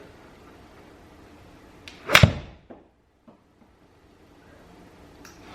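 A Callaway Big Bertha B21 iron strikes a golf ball with a single sharp, crisp ring, followed by a faint swish and quiet ambience outdoors.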